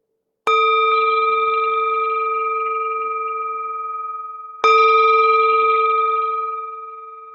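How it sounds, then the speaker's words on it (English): A meditation bell is struck twice, several seconds apart, each strike ringing out clear and loud with a long, slowly fading hum in a quiet room, with no talking. "the sound of the bell returns us to our true home"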